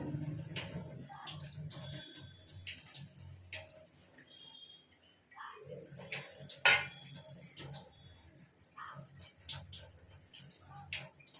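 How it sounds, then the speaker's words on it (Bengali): A plate gets rinsed with splashing water in a home kitchen during potol dalna (pointed gourd curry) cooking. Intermittent trickles and light clinks run alongside quiet kitchen clatter, with no talking. "থালাটার গায়ে একটু জল লেগে আছে, ওটাই ধুয়ে দিয়ে দিলাম।"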